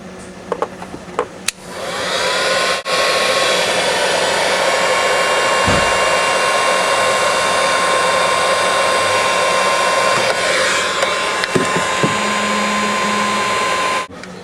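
A heat gun blows steadily and loudly for about twelve seconds, shrinking heat-shrink tubing over a soldered wire splice during a Ford Explorer window repair, with a constant airy roar and a faint whine, then shuts off.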